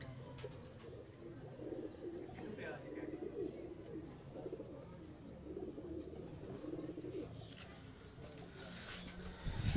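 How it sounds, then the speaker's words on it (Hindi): Sialkoti pigeons coo in repeated soft, low warbles among a busy background of other birds chirping, with some faint voices and ambient noise throughout. "ये देखें, बड़ा अच्छा कबूतर आया ये सियालकोटी।"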